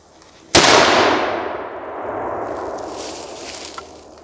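A handgonne, an early hand cannon loaded with a reduced powder charge, fires one sharp, loud blast after brief quiet. A long ringing decay trails off over several seconds.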